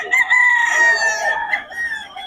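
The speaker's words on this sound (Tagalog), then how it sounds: "mga solid to mga manok ni Boss Russell" A rooster crows loudly and close by in Bocaue, one long drawn-out call with a wavering tail.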